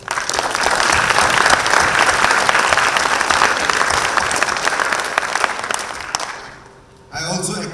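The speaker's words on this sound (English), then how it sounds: "A round of applause for the parents." An audience at a Grade 12 graduation ceremony applauds the parents with loud, sustained clapping that gradually fades out, after which a voice begins speaking over a microphone.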